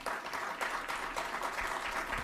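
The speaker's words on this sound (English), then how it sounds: "Let's all give a round of applause as they make their way." An audience at an outdoor civic kickoff event in Louisville applauds with steady, dense clapping that sounds somewhat distant and moderately quiet throughout, with no clear speech over it.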